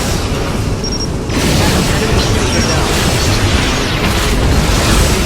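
A starship explodes in the Star Trek Legacy video game with a loud, sustained, roaring boom that holds steady for several seconds, layered with game effects and voices.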